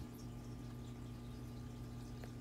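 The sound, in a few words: submersible water pump pumping water through tubing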